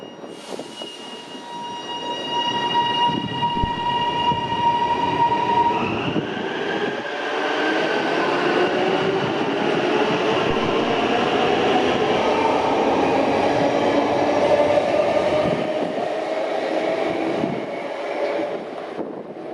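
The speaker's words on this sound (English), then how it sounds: "the motor noises from the trains do sound nice." Inside a moving HCMT train: electric motor whine rises in pitch, with descending tones, over steady rumbling of wheels on track.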